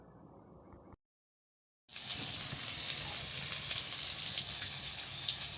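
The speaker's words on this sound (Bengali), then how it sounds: "এই ভাত হচ্ছে এখানে, আর এখানে মাছ ভাজা হচ্ছে।" Fish frying on a clay stove: after a quiet second and a brief silence, a steady, fairly loud hiss of sizzling oil starts and holds without a break.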